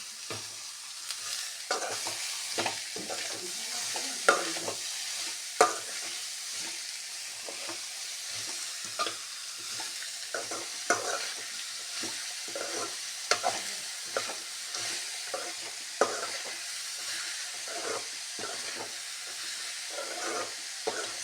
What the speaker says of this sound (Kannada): ಈಗ ಈರುಳ್ಳಿ ಇಷ್ಟು ಫ್ರೈ ಆದರೆ ಸಾಕು. ಈಗ ಮೂಲಂಗಿ ಹಾಕ್ಬಿಡೋಣ.